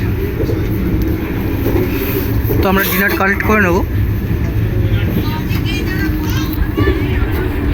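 Constant low rumble inside a Vande Bharat sleeper express train running at night, steady throughout, with people talking over it.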